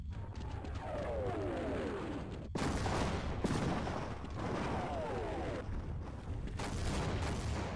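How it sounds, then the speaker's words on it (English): Repeated loud booming explosions in the video game Half-Life, several sharp blasts with rumbling tails spaced a second or two apart, some preceded by descending whistling sweeps. "I love the explosion shit up there"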